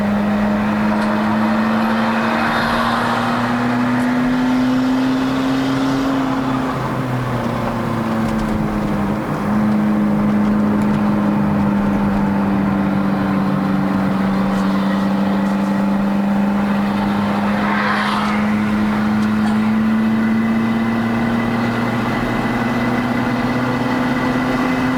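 A Perodua Bezza 1.3L with a bolt-on turbo labors up a hill, its engine holding a steady loud drone with a slight pitch dip partway, heard from inside the car without talk.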